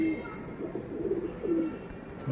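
A 2019 racing pigeon from a tournament-club loft coos softly nearby, a few low throaty rolling coos over faint room noise.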